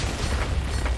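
Explosion in a Minecraft Jujutsu Kaisen mod: a dense, booming low rumble with a crackling wash on top, loud and sustained for about a second with a few small bursts, and no speech over it.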